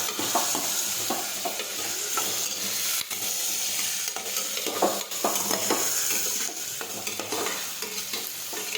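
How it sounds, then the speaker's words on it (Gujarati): Chopped tomatoes sauté in a pan for a ridge gourd curry, with a steady sizzle broken by repeated spoon-scraping stir strokes. No one speaks. "સમારેલા ટમેટા નાખીશું, હવે આપણે સાતળી દઈશું."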